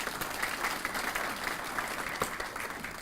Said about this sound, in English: David deserves some applause, doesn't he?